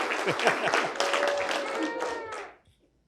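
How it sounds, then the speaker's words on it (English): A short burst of hand clapping at a university graduation ceremony, several people applauding together over a few seconds, mixed with light murmuring voices before it fades out. "We can always count on Chris for the clapping there."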